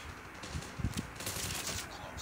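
Rapid gunfire bursts from the mobile shooter Call of Duty: Mobile, dense overlapping shots in a steady stream with a few louder cracks, heard in the middle of game noise.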